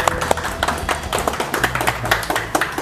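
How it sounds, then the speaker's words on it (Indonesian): An audience claps in a lively round at an Indonesian talk show after a coconut-tree climbing tool made from scrap iron is demonstrated, with dense, fast claps from a nearby group lasting about three seconds. "Kita beri tepuk tangan yang meriah Bapak Tut Swastana."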